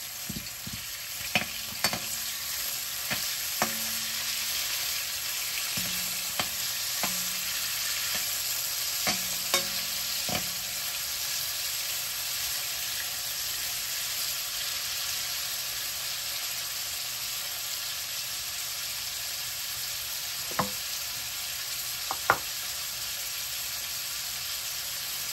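Ingredients lightly frying in oil for a drumstick curry, a constant bright sizzle with scattered light taps and clicks from stirring, steady and close throughout without speech.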